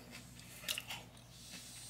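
Homemade cornflake cereal crunches in a mouth, a few faint close bites with crisp crackling at the start, then quieter chewing, with no talk.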